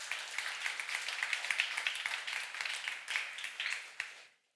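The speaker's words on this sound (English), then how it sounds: "Let's give a quick round of applause to her." A round of applause for an award recipient at a women's empowerment awards ceremony, brisk clapping from a modest crowd that holds steady and then cuts off abruptly near the end.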